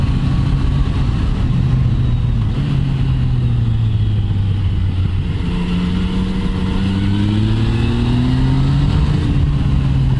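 A 2019 Yamaha MT-09 motorcycle accelerating, its close engine note rising and falling through several throttle pulls and gear changes, steady and loud with no talking.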